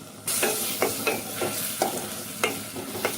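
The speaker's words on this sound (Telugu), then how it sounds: "మసాలా మొత్తం బాగా కలుపుకోవాలి." Spiced spinach and chickpea curry being stirred in a pan, with a spoon scraping in a steady rhythm of about eight strokes over a soft background sizzle, close and moderately loud, no voices.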